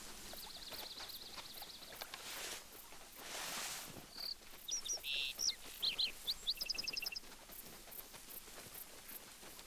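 Chirping songbirds in the hunting game Hunter Call of the Wild, with short bright tweets and trills at moderate distance over steady rushing water.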